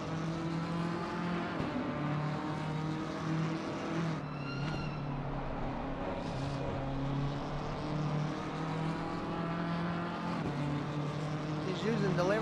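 A Lamborghini race car at Brands Hatch in a racing video game holds a steady, droning engine note with gear-like pitch shifts, moderately loud and unbroken, with faint tire noise.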